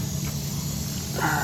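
Refrigerant hisses steadily out of a loosened fitting on a commercial HVAC system, a continuous broad rushing noise that holds level for the whole moment and brightens slightly near the end.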